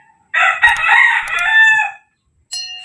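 A rooster crows loudly and close by in one long drawn-out call, followed after a short pause by the start of another crow.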